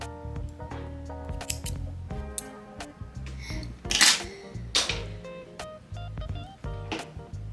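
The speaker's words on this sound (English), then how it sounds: "So we're gonna pull through and cut off the yarn." Small scissors snip crochet yarn, a couple of short crisp cuts over quiet background music.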